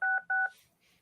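Two clear telephone keypad DTMF tones beep in quick succession on a conference call line, each lasting a fraction of a second, followed by faint line noise.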